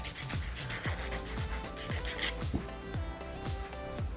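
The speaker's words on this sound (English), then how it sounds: "Once I have finished hand filing that" Hand file working a sculpted stiletto nail, a quiet, close rasping rub repeated in a steady back-and-forth rhythm of about two strokes a second.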